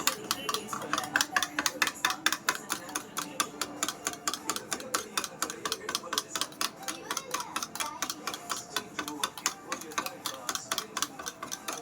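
Egg and masala mixture stirred in a bowl, giving a steady run of quick, regular clinks and scrapes that keep going without a break from start to finish.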